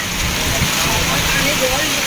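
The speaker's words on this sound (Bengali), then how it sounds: "দেখতেই পাচ্ছি প্রচণ্ড বৃষ্টি পড়ছে" Heavy rain pours down outdoors as a dense, steady hiss that stays loud and unbroken for the short stretch.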